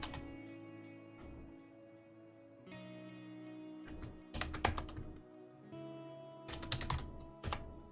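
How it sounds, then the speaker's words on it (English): Keys clatter on a computer keyboard in two bursts of fast typing separated by a quieter stretch, close and clear over a steady background hum, with no talk. "My keyboard sounds nice."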